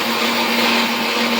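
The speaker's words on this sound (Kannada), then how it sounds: "ಇದಕ್ಕೆ ಏಲಕ್ಕಿ ಹಾಕೊಂಡು ಮಿಕ್ಸಿ ಮಾಡ್ಕೊಳ್ಳೋಣ" A mixer grinder whirs steadily as it grinds roasted ragi with cardamom, a loud, even motor whine with no pauses.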